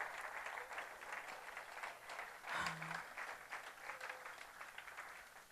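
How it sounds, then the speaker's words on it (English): A crowd in an audience applauds steadily at a moderate distance, a continuous wash of clapping that lasts the whole time with a brief louder swell near the middle. "let's give her a big round of applause"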